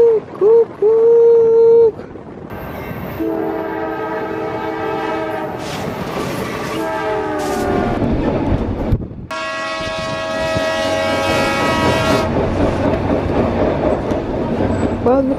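A train in Bangor, Wales sounds long blasts of its horn close by as it passes, with rolling rail noise continuing beneath, loud and sustained.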